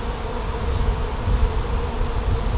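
Honeybees buzz steadily during a hive inspection, a dense, continuous drone of many wings close by with no voices over it.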